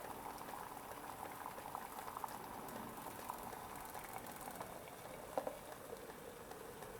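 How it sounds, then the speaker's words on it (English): Water at a full rolling boil in a pot over a homemade alcohol stove bubbles steadily and continuously, close up, with a couple of small clicks near the end and no talking. "That would be what I would call a full rolling boil."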